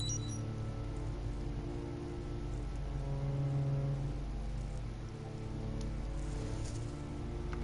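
Steady rain filling a well in the video game Heavy Rain, a dense continuous hiss with low rumbling water underneath, heard alone at moderate level throughout.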